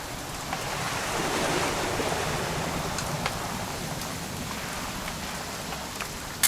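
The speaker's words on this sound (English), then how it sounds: "It's gonna rain the whole weekend, isn't it?" Steady rain in the video game What Remains of Edith Finch patters down continuously, a dense hiss of drops with faint scattered taps and no voices.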